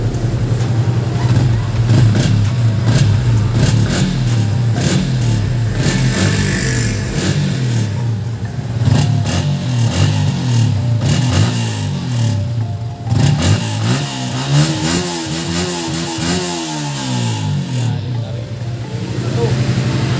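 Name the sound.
Yamaha Sniper 155 motorcycle revving with UMA Racing exhaust pipe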